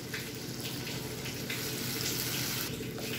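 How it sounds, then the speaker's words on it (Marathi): Water poured into a pan of sautéed masala for a potato and onion dish, a steady close rushing splash that runs loud and unbroken for the whole stretch with no voices. "यामध्ये आता पाणी टाकायचं"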